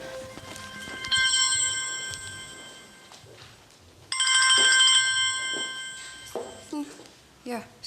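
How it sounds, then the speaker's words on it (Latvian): A mobile phone rings with a melodic electronic ringtone in two bursts separated by a pause. A voice speaks around and between the rings. "Jā, man zvana"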